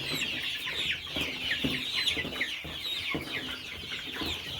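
A dense chorus of about five hundred free-range village chickens clucking and chattering together on a poultry farm, close by and continuous, with occasional louder squawks.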